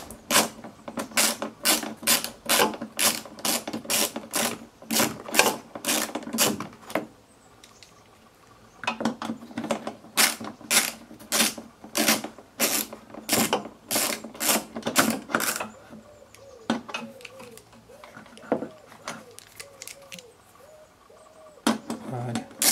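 A ratchet with an 8 mm socket clicks in long, rapid runs while undoing a headlight screw on a 2006 Mercedes C200 W203, close and crisp, with brief pauses between bursts.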